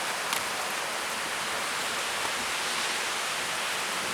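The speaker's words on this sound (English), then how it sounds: "It's raining. Y'all want to see the rain? Do you hear it?" Gentle fall rain pattering steadily outdoors near a porch, a dense even hiss of drops with no breaks and no voices.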